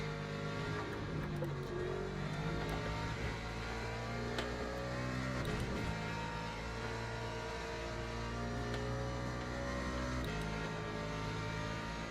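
Race car engine in the sim game Le Mans Ultimate, chasing a Porsche, a sustained loud high-revving drone with repeated gear shifts and rising and falling pitch, heard alone without voices.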